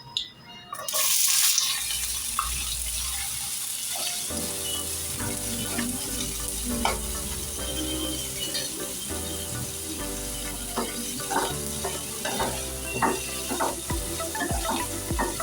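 Onions for bhindi masala frying in a pan, a continuous sizzle after a brief louder burst at the start, with scattered clinks and stirring sounds throughout.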